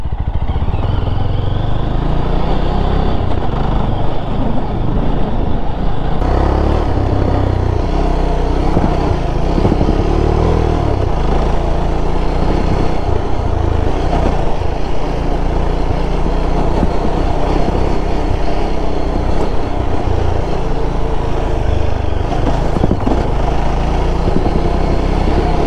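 A Yezdi Scrambler motorcycle rides over an off-road patch, its engine droning loud and continuous throughout, with rumble and clatter from the rough ground.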